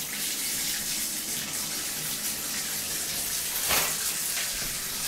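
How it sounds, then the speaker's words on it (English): Bath tap running water into a tub in a home bathroom, a steady close rushing gush with a brief louder surge near the end, no talk. "Yep, I can totally hear the bath."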